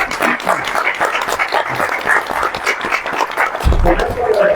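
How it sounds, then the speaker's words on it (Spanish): Sustained audience applause at the close of a human rights lecture, dense steady clapping filling the room for several seconds with some voices mixed in. "Fuerte aplauso."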